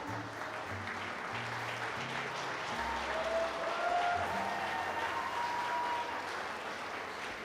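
Sustained audience applause fills a barista and latte art competition's preliminary round, a dense, steady wash of clapping that swells slightly midway and continues throughout.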